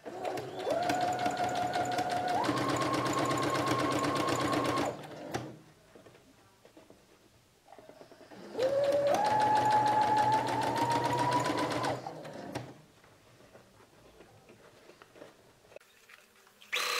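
A sewing machine stitches bias tape onto a cotton dish towel in two loud, close bursts of rapid whirring, each rising in pitch as speed builds, separated by quiet pauses with small handling clicks.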